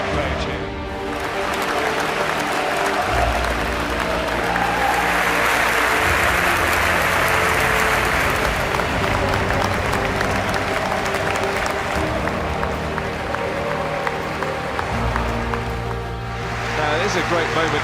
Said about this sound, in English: This is a great moment where Anfield rises in support of Cristiano Ronaldo. This fan-led minutes applause.